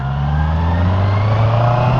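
A Honda CBR650R E-Clutch motorcycle pulls smoothly in third gear at low speed, its engine a steady, close, fairly loud hum with a gently rising drone and no break in the tone.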